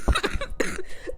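Two or three harsh, wet coughs from a woman who is sick, close and loud, in a quick burst with short breaths between, alone with no talking.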